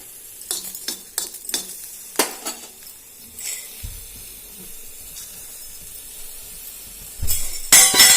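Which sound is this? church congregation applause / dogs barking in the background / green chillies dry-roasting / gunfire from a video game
green chillies dry-roasting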